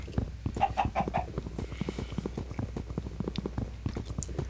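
Chickens in the Minecraft mod TerraFirmaCraft cluck in quick, choppy bursts, close and fairly quiet, with a few higher squawks mixed in.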